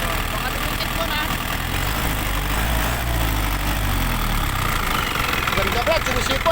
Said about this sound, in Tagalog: Sinisipol, oh. Ayan na. Turbo yan. Yan ang turbo niya, oh.